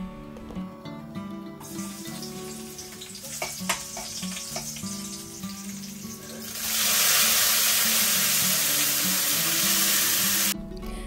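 Red amaranth greens frying in a pan: stirring and clattering give way to a loud, steady sizzle that swells as the greens hit the hot oil, then stops abruptly near the end.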